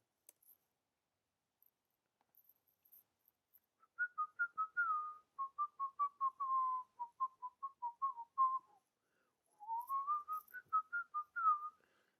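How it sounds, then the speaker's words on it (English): A man whistles a melody in short, repeated phrases during a live stream, close and clear with no talk, pausing once before a final run of notes. "why the hell is he whistling?"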